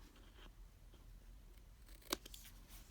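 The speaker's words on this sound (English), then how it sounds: "I'm just going to trim it down a little bit" Scissors trim paper for a handmade envelope album, a single quick crisp snip standing out against a faint quiet background.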